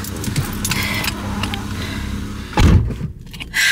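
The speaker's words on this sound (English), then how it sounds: "let me get in my car" Someone climbs into a car in Atlanta, keys jangling and the door thumping shut with a loud, close bang partway through, a muffled interior hush following.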